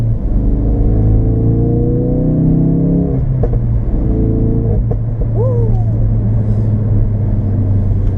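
A Ford Focus RS engine revs and accelerates through rising gear tones, shifting once or twice, loud and steady with a constant road rumble underneath.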